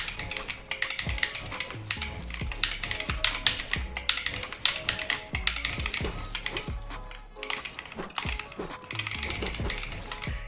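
Continuous fast typing on a Dierya DK61e mechanical keyboard, dense clattering keystrokes up close with a rattly, busy texture and no talking.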